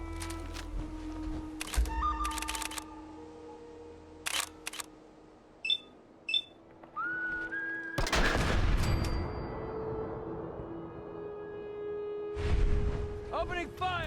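Gunfire in the Fallout 4 video game, with a loud sustained burst of shots after a stretch of quieter game sounds and short clicks, followed by another heavy burst near the end.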